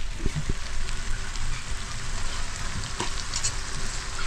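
Garlic, onion and tomato sautéing in a pan, a busy continuous sizzle with crackling pops and a few stirring knocks, close and fairly loud.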